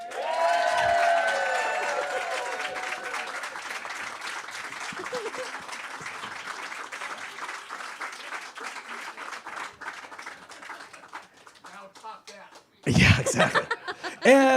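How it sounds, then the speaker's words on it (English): An audience at an outdoor Shabbat evening service applauds to welcome a new cantor, a dense burst of clapping that swells at first and then gradually fades, with a voice speaking over the end. "You'll remember that lovely applause"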